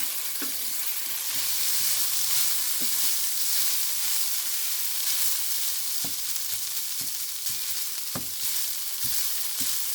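Egg fried rice stirred in a hot pan gives a continuous bright sizzle, broken by scattered spatula clicks and scrapes against the pan, close up with no voices.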